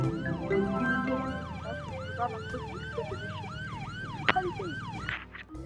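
Wailing police siren in a video game, a repeated rising-and-falling electronic tone cycling steadily for several seconds over a low engine-like rumble, loud and close, with a brief sharp click near the end.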